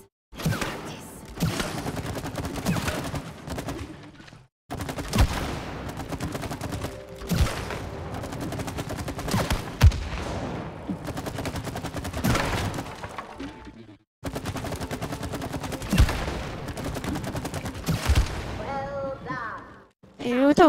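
Dense bursts of gunfire fill a war zone in the video game It Takes Two, loud rapid volleys running almost without pause in long stretches, with only brief gaps between them.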